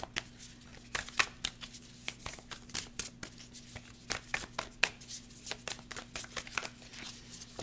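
Tarot cards shuffled by hand in a series of quick, crisp riffling bursts and soft slaps, close and fairly quiet, with no talking over them.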